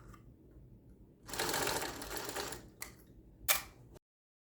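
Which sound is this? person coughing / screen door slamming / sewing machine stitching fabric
sewing machine stitching fabric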